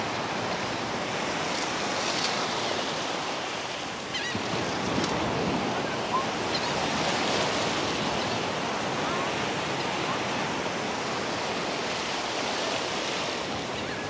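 Ocean surf washes steadily at a beach in Gulf Shores, Alabama, a constant broad rushing wash with soft swells and no clear voices.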